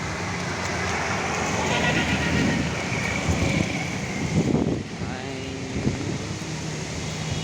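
Strong wind and rain during a storm roar steadily and broadly, with gusts rising and falling over several seconds, and a voice speaks briefly near the end.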